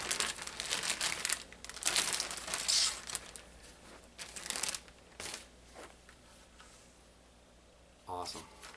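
A Ziploc bag crinkles and rustles in close bursts as a Skookum Bushtool is unwrapped from it, the crackling loudest at first and then thinning into quieter handling.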